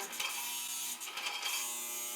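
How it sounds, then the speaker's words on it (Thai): A steady, high-pitched motor whine from an old blender making a mango smoothie runs continuously at moderate level, buzzing without pause. "ก็ปั่นเลยจ้า"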